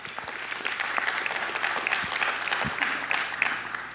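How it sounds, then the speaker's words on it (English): A room full of people at a wedding reception claps steadily for a few seconds, dense and fairly loud, with no one speaking over it. "Let's give another round of applause for the matron of honor, Anu Thomas."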